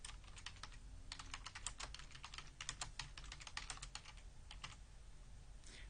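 Fingers typing a name on a computer keyboard, rapid bursts of close, crisp key clicks with brief pauses between words, alone in a quiet room.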